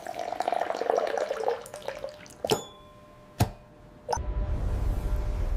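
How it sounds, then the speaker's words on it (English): Tap water runs into a sink, trickling and dripping in bursts with a few sharp clinks, then breaking into a steady low rush of flowing water. "Water from the Yangtze, now flowing from taps in Beijing."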